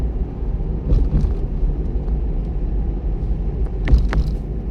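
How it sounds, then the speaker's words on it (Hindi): A car engine runs steadily during a driving lesson as the gears are shifted, a continuous low rumble with slight surges, close and fairly loud, with no talking. "दूसरा गियर लगा दिया, पूरा क्लच दबाया, गियर लगाया दूसरा"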